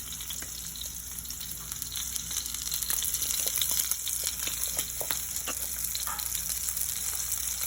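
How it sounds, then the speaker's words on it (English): Wagyu rib eye steak sizzling and frying in a pan, a steady dense crackle with scattered pops and spits running throughout, close and continuous with no talking. "I'm very excited though to cook my Wagyu beef."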